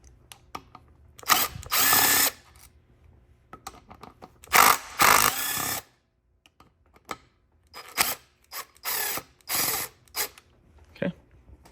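Power tool backing out T30 screws on a BMW N54 engine's vacuum pump, a string of sharp, close whirring bursts of varying length separated by short quiet pauses, with no talking.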